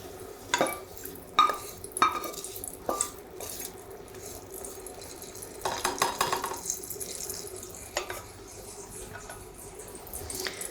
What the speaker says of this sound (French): On va venir chinoiser ce mélange.